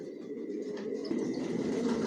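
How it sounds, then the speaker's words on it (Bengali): Racing pigeons coo in a breeder's loft, a soft low murmuring warble that rolls on continuously at close range without speech. "টপ কোয়ালিটির কবুতর পালি"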